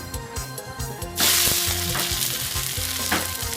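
A sudden loud sizzle as pounded Thai chili paste hits a hot pan for a field-rat stir-fry, hissing steadily after rhythmic mortar pounding beforehand, close and without talk.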